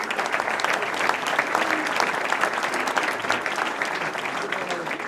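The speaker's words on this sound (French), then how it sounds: "Et on peut les applaudir, Laurence et Stéphane Masquelin." Audience applauding at an innovation trophy ceremony for commerce, restaurant and bar businesses, a steady dense wash of clapping from a crowd lasting throughout, fairly close and uninterrupted.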